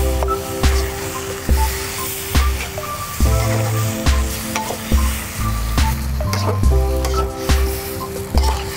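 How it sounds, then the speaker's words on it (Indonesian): Oncom frying with basil leaves in a pan sizzles loudly while being stirred, the steady hiss broken by repeated scraping strokes and soft thuds from the utensil, with no talking. "Setelah semuanya layu, lalu kita tambahkan dengan kemangi. Kembali kita aduk rata."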